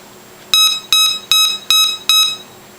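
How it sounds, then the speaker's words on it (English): Five loud, evenly spaced electronic beeps from a Nokta AU Gold metal detector's battery check, each a bright tonal chirp, with brief silences between them and no other sound. "those beeps tell us the battery's good"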